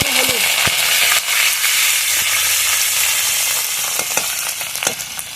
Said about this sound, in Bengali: এই তেলের মধ্যে দিয়ে দেবো অল্প একটু হলুদ